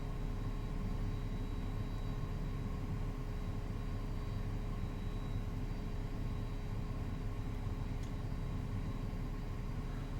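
A LearJet taxis on a bumpy, lumpy taxiway in a VATSIM flight simulator, heard as a steady, continuous jet engine drone with a faint whine that holds even and unbroken throughout.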